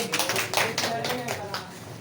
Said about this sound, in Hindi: चलो इसके लिए ताली बजाओ